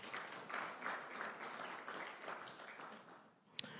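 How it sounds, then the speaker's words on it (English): A crowd applauds the board chair at a CEO Africa Botswana chapter launch, with steady, moderately distant clapping that fades toward the close and a sharp click at the end. "A round of applause for our board chair"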